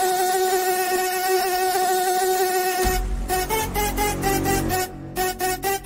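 A voice imitates a mosquito's buzzing with a sustained, steady, high nasal drone that is loud and alone at first, then continues under pulsing dance-music beats.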